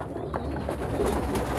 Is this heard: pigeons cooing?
yes